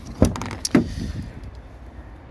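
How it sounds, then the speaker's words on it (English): Passenger door of a Bessacar E424 motorhome opening, heard as two sharp latch clicks and thumps close together near the start, followed by a softer rattle and quiet room tone. "Opening up the passenger door,"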